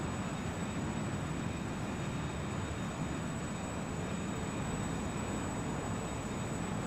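A Learjet 35A's jet engines drone inside Microsoft Flight Simulator, a steady, dense roar with a thin high whine on top, continuous and even throughout without speech.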